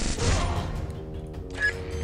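A gunshot in the Free Fire video game, one loud crack with a booming tail that decays over about a second, followed by a fainter metallic clatter.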